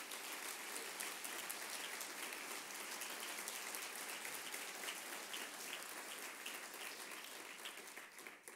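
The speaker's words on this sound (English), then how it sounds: "Let's give her a round of applause." Applause for an author at the opening of "The Italian Americans" in New York, a dense, even patter of clapping from a crowd, faint and distant, lasting the whole stretch and thinning slightly at the end.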